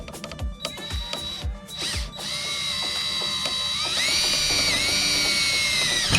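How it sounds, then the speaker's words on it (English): Drill fitted with a new hole saw cutting holes for a camper ceiling light, starting with a few short clicking bursts, then spinning up into a steady whining cut with a shrill metallic ring, close and fairly loud. "We're going to cut some holes in them with this brand new, really sharp hole saw."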